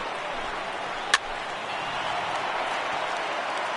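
Video game stadium crowd from MLB 18 The Show during a Dodgers vs. Red Sox World Series game, a steady broad roar of cheering and applause throughout, with one sharp crack near the start.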